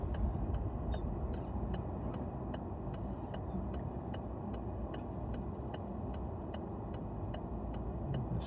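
Car driving through school traffic on Blackhouse Hill between Cheriton and Hythe in Folkestone, a steady interior engine and road rumble with a regular ticking indicator throughout.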